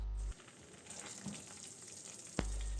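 A paella base, covered and left on low heat, sizzles softly and steadily as it reduces, with one sharp click near the end and no talking.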